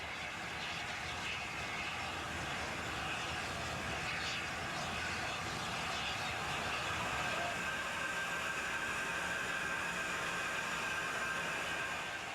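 A steam train runs steadily into Ely across the fens after a 40-mile run from Bishop's Stortford, a continuous rumbling roar with a faint high whine, heard from a moderate distance.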